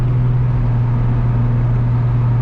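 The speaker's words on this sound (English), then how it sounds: "This car downshifts, it sounds so nice" Steady, droning engine hum of an Infiniti G37 with its VQ engine, a loud, even low rumble heard from inside the car with no clear shift in pitch over the brief moment.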